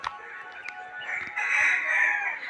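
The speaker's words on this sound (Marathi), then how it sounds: "कोंबडा बघा, मोठाच्या मोठा कोंबडा आहे." A big rooster in a village on a morning gives a single drawn-out crow at moderate distance, preceded by a few faint clicks and knocks.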